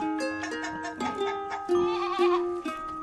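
A baby goat on a farm bleats in a few short wavering cries close by, over a steady background with no speech.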